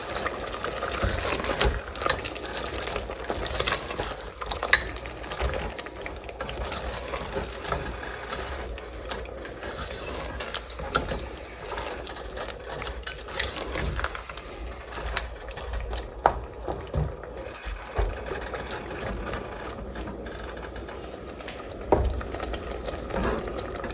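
Beef and mushrooms with Kashmiri red chili simmer in a pan over low heat, a steady bubbling hiss running throughout with occasional faint clicks and pops.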